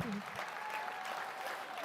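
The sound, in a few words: audience cheering and applauding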